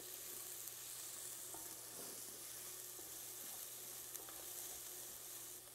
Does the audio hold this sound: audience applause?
no